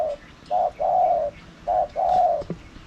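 A spotted dove kept as a trained decoy coos nearby in a series of soft, hollow notes: short phrases and longer drawn-out coos with brief pauses between them, fairly clear against quiet surroundings.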